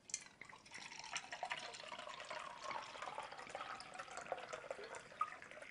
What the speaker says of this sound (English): we're going to add some tap water to that little bit of tea that's there